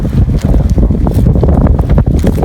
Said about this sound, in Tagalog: Medyo amihan nga pala dito kaya medyo malakas at medyo mahangin.